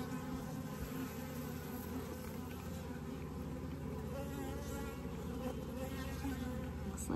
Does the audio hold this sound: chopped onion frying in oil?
no